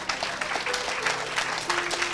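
A congregation claps together during a Sunday church worship service, a dense, steady round of applause from many hands that fills the room for a couple of seconds without a break.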